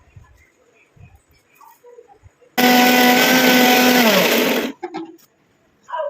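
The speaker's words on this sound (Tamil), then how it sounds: "இப்போ இதை நல்லா நைஸாக நம்ம அரைச்சி பேஸ்ட் மாதிரி எடுக்க போகிறோம்" A mixer grinder blending hair dye ingredients into a paste: after quiet background sounds, a loud high whirring motor starts abruptly, runs steadily for about two seconds with a slight pitch drop, then cuts off.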